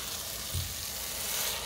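Chicken with Rotel sizzles and crackles steadily in a pan on the stove, with a faint clunk of stirring partway through and no voices.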